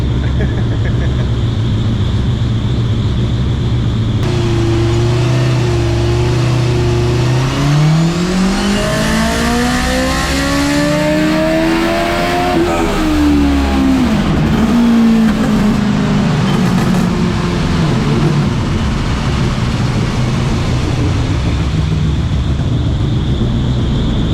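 A Hayabusa turbo engine fitted in a KE10 Toyota Corolla runs on a dyno, loud and close, idling then revving hard through rising pitch to a high peak before easing off, with voices nearby.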